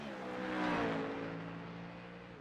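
Race car driven flat out around the Roval track during an AARS round 9 race, with a loud engine swelling as it passes close and then fading with a falling pitch.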